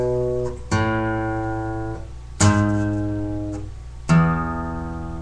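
Electric guitar playing a lick very slowly, three sustained picked notes that ring out one after another, close and clear with no talking.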